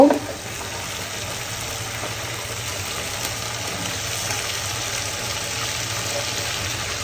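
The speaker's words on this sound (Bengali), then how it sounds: "এখন হচ্ছে ফুলকপিটা আমি একে একে দিয়ে দিব" A steady, low sizzle of cauliflower pieces frying in hot oil with spices continues throughout, fairly close and even, with no talking.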